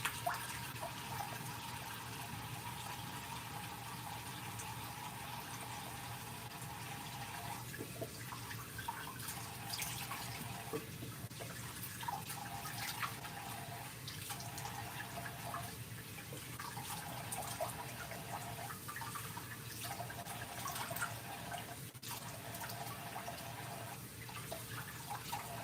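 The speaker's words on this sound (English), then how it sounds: "How a medium washes their face." A tap runs continuously into a sink while someone washes their face, a steady close splash with occasional drips and slight shifts in the flow.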